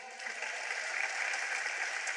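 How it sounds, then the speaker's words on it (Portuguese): A church congregation applauding steadily, a dense wash of clapping at an even level throughout. "Vamos dar um aplauso ao Senhor?"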